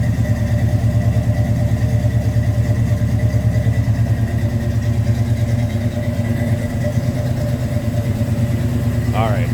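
Engine of a 1971 Chevrolet C10 Cheyenne pickup truck idling steadily close by, a low continuous rumble that holds throughout, with a brief higher chirp near the end.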